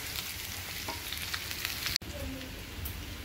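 Potato slices for aloo katli fry over a medium-low flame with a low, even sizzle and occasional light stirring, broken once by a brief sharp click, and no one talks.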